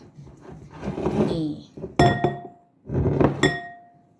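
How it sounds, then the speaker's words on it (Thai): A lid is screwed down and clinks shut on a glass jar of homemade fermented fish, giving two sharp, ringing glassy knocks close by between rustling handling noises. "แล้วก็ปิดฝาให้สนิทนะคะ ทุกคน"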